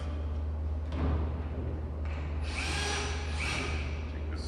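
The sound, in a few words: screw gun driving a screw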